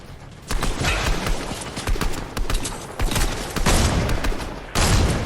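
Loud bursts of gunfire from the Fortnite video game, played on PS4, crackle in rapid clusters separated by brief pauses, close and harsh throughout.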